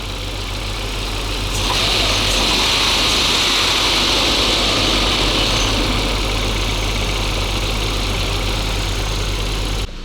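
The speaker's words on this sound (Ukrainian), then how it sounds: "двигун працює на холостих обертах" A Volkswagen Passat engine with an incorrectly replaced catalytic converter idles steadily up close, a constant low rumble with a faint high whine layered on top and no talking.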